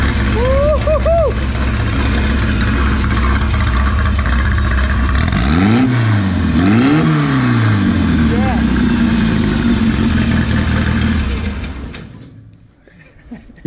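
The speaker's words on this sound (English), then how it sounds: "We're probably making a whole 82 horsepower, but she sounds furious." A small car engine of about 82 horsepower revs hard and climbs through several pitch sweeps over a loud, rumbling idle before tapering off. A voice is heard over the engine near the start.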